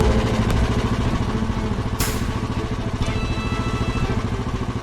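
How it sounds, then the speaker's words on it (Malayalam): A motorcycle engine putters steadily, near and fairly loud, with a rapid low thrum and a sharp clatter partway through, as the bike goes past. "ആ ബൈക്കിൽ പോകുന്നത് ആരാ?"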